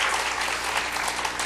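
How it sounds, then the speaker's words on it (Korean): Steady, dense applause from a church congregation at a mothers' prayer meeting, a continuous wash of many hands clapping together with no talk over it. "우리 핑크 입으신 우리 어머니 기대 스태프들을 위해서 박수 좀 보내주시기 바랍니다"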